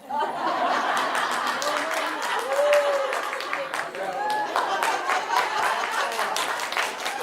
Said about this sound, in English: I'm going to have to give people a lot of money for all these clapping